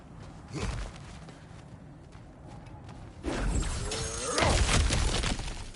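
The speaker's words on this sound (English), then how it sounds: "Ah, back to smashing through things for fun and profit." Ground cracking and smashing apart in God of War Ragnarok, with debris crashing and whooshing in several loud bursts, the heaviest impacts building toward the end.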